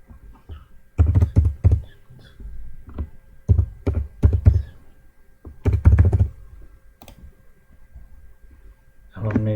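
Keys clatter on a computer keyboard in short bursts while an Aadhaar card number is entered, with a voice talking over parts of the typing.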